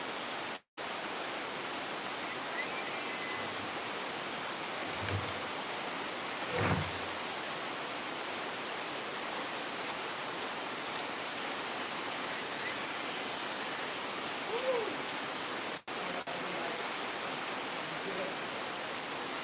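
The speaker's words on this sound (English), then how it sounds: "It's raining." Rain falls steadily outside over a garden, a constant even hiss held at a moderate level throughout, broken by a few faint dull thumps.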